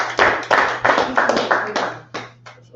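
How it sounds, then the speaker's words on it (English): Hands clap in a series of about eight sharp, close claps at a loose, uneven rhythm, against a faint steady hum. "Clap it up."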